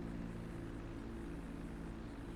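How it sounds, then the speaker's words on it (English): An airplane drones steadily in GTA V, a constant low propeller-like hum at moderate level with no talk over it. "Oh, there's another plane."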